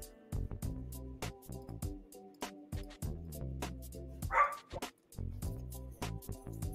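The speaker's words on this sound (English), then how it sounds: "my dog Jack is just still barking up a storm out there" A dog barks repeatedly in the background, a rapid run of bow-wow barks with a few yips, rhythmic and steady across the whole stretch, somewhat distant but clear.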